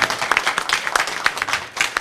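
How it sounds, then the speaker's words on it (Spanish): A church congregation at a worship night breaks into brisk, steady applause, dense and fairly close, with scattered individual claps standing out. "Aplausos."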